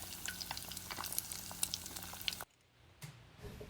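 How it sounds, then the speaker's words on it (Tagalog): Mozzarella sticks deep frying in hot oil until golden brown, a steady close crackling sizzle that cuts off abruptly, leaving a quiet room tone. "I-deep fry natin hanggang mag-golden brown."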